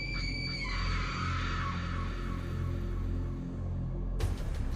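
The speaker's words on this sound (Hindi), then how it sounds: "तभी उस किले के अंदर से जोर की एक चीख सुनाई दी" A loud, sustained scream echoes from inside a fort as a horror story effect, a single long piercing cry held for several seconds over a low rumbling drone, ending with a sudden bright burst.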